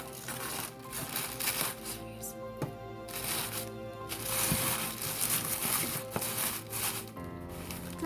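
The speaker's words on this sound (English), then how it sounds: "I like to go ahead and stuff the rest of the black tissue paper in" Black tissue paper is pushed and stuffed into a candle and soap package, giving a steady run of close, soft crinkling and rustling with a few sharper crackles.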